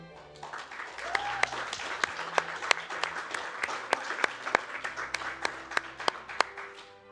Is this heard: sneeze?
no